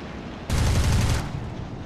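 A single dense burst of 20mm aircraft cannon fire in War Thunder, from an early fighter such as the P-26, lasting under a second and standing loud and close over a steady background rumble.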